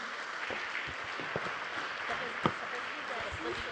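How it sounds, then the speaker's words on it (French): Audience applause for expert guests at the close of a French debate forum, a steady dense patter of clapping with one sharper clap standing out, moderately faint and continuous throughout. "Je crois qu'on peut remercier, applaudir nos invités extrêmement experts"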